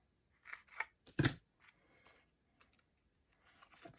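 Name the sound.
cutting paper for a dragonfly card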